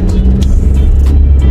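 A 2021 Kia Forte5 driving in Canada on a commute home, with a steady low road and engine rumble filling the interior continuously, a few faint higher rustles on top, and no talking.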